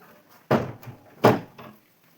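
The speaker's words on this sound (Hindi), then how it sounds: "दरवाजा बंद कर रही हूँ क्योंकि बाहर से आवाज आ रही है।" A door shut indoors in two solid, close thuds about three quarters of a second apart, each followed by a small rattle, with the room otherwise quiet.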